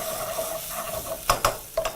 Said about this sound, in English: proceed to push back onto the heat and proceed to mix everything together